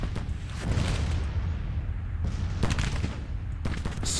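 Artillery fire in the strategy game Grand Tactician: several deep booms and cracks of distant guns, irregularly spaced over a low rumbling battlefield din, moderately quiet.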